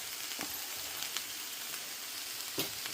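Ghee sizzles softly in a small bowl, set up to give smoke flavour to shik kabab, with a faint, even crackle broken by a few sharp pops and no voices.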